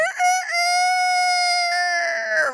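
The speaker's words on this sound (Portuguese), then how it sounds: "o galo cantou" A rooster crows one long, loud, sustained call, strongly harmonic and drawn out over a couple of seconds, ending with a ragged, breaking tail; no talk is heard.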